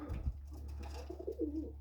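Pigeons coo softly and close by, low throaty calls rising and falling over a couple of seconds against a quiet hum.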